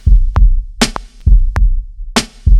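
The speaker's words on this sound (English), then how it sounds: "Now let's listen to the snare." A punchy, close boom bap drum loop: deep kick thumps alternate with bright snare cracks, the snare landing off the usual backbeat in a repeating pattern.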